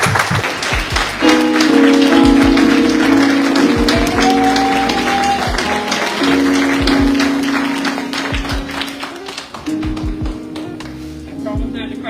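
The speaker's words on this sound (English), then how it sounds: "please give a massive round of applause to my best friend, Dr. Danessa Thomas." An audience at a Women's Day event bursts into sustained applause for an introduced speaker, a broad clapping wash mixed with cheering and a loud voice over it, fading somewhat toward the end.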